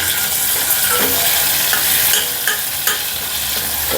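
Tomatoes and green chillies fry loudly with browned onions in a pan, a close, steady sizzle broken by scraping stirs and occasional clinks of the spoon.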